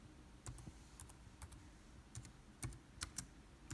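Keys tapped on a computer keyboard while entering a store name into a Google search box, a quiet, uneven run of crisp clicks, some in quick pairs, close and alone in a hushed room.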